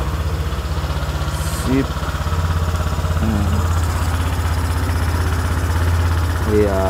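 A scooter engine idles after a CVT roller upgrade, with a steady low rhythmic putter close by and a short spoken word partway through.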